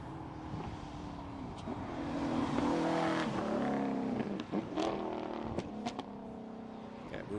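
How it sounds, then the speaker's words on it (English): Ginetta race cars at the Anglesey circuit hairpin rev and shift as they brake and accelerate through the corner, their engine notes rising and falling at a moderate distance while a commentator talks over them. "We'll try and give you as much engine note as we can"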